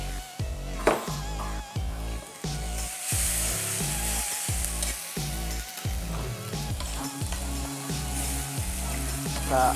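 Onions sizzle and fry steadily in a pan while a utensil stirs them in a run of rhythmic scraping strokes, close and fairly loud throughout, with no voices.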